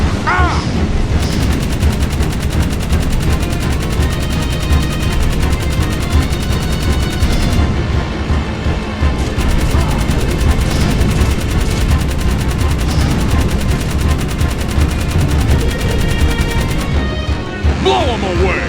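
Rapid turret gunfire rattles loudly and continuously through a Jak 3 vehicle battle, with explosions and crashes mixed into the dense, unbroken barrage.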